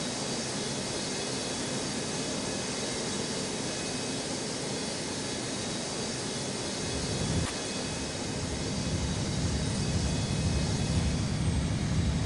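A jet airliner taking off from runway 22 right at Newark airport, a broad continuous engine roar held steady and strong throughout, growing slightly heavier near the end.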